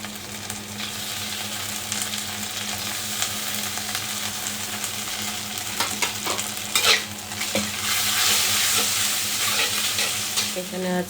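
Onion frying in a hot pan for a Bengali home-cooked dish, a steady close sizzle with stirring scrapes and occasional clinks of a spatula against the pan.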